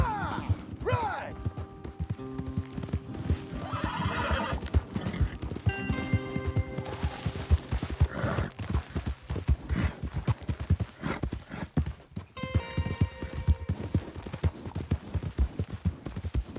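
Horses in the Western video game Red Dead Redemption 2, with steady galloping hoofbeats running throughout and several loud neighs and whinnies breaking through, mixed with faint game ambience and occasional brief voices.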